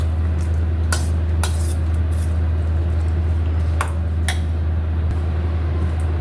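A spoon clinks and scrapes against a metal vessel while overnight fermented rice is stirred, with about half a dozen sharp, bright taps spread irregularly over a constant low background hum.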